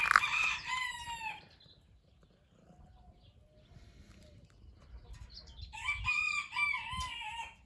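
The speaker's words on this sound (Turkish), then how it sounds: "Tavukları beraber açalım gel." A rooster crows loudly at the start and again near the end, with quieter clucking and low rustling in between.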